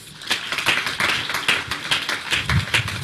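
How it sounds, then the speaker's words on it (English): A modest round of applause at the opening ceremony of The UWI Games 2017, fairly close hand claps in a loose, somewhat rhythmic patter that carries steadily for a few seconds. "A round of applause"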